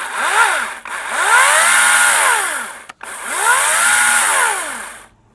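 A ProCraft PCA40/2 cordless battery chainsaw runs in two bursts, each spinning up with a rising whine, holding a loud high buzz, then winding down, with a brief gap between them.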